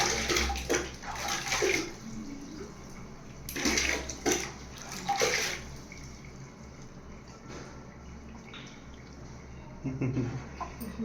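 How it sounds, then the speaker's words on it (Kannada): Hot water poured for bathing a baby, several splashing gushes that come and go, with quieter dripping between and voices talking nearby. "ಅಮ್ಮ ಇನ್ನೊಂಚೂರು ಬಿಸ್ನೀರು ಹಾಕಿ, ಯಾಕಂದ್ರೆ ಚಳಿಗೆ ಆಗತ್ತೈತೆ."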